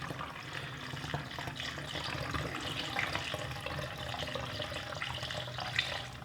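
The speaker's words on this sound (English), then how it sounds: "So whenever you're pouring, have a look at the size of the nozzle and don't over pour, else it all leaks over the top." Quick detailer liquid being poured from a bottle, a steady close trickling and splashing stream that continues for several seconds without speech.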